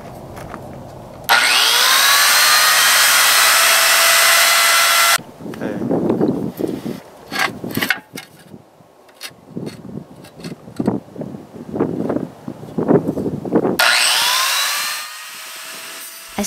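A tile saw cuts slate tile with a loud, steady high whine that starts, runs for several seconds, then drops into rough grinding and scraping bursts as the blade bites the stone, before the whine returns, all close up.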